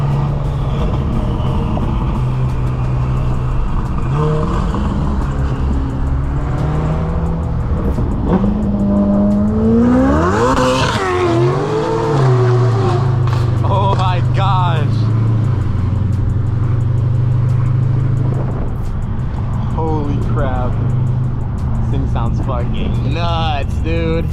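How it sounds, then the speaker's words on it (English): Ferrari F8 twin-turbo engine on a loud drive through Los Angeles, heard from inside as a loud, steady engine roar with rising and falling revs and whooshing turbo sounds, while someone talks over it. "Sounds crazy, bro. The turbos are insane. Listen to that."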